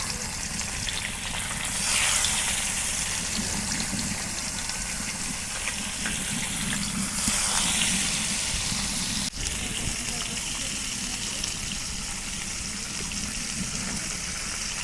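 Barricade fish pieces frying in hot oil in a pan, a continuous bright sizzle with brief louder bursts as pieces settle, close by and with faint talk beneath it.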